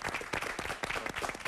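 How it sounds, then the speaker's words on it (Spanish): A television studio audience greets a guest with a short burst of clapping, brisk and fairly close, the individual claps distinct and uneven. "Un aplauso para Ricardo"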